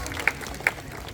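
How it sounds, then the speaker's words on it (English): Audience applause at a night safari show, a soft, spread-out patter of many hands heard from a distance, with two sharper, louder claps standing out near the front. "Everyone, let's give a round of applause to Aslan, our binturong for the night."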